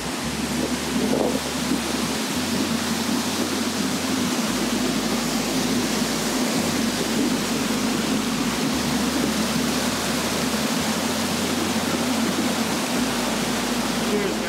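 A waterfall in Glacier National Park pours in a constant, dense rush of falling water, heard close and steady throughout with no breaks.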